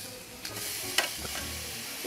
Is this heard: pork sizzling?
yes